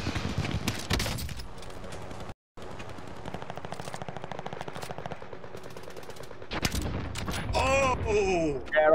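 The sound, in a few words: fireworks in a video game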